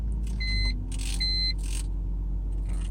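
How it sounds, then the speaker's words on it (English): A BMW 325i with a vacuum leak gives a steady low engine rumble throughout, while a few short electronic chime beeps sound in bursts above it. "I'm gonna go ahead and start the car real quick."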